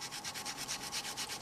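Dry artist's chalk pastel scraped against a piece of sanding paper, a steady rhythmic rasping in about eight even strokes, close and fairly quiet, with no voices.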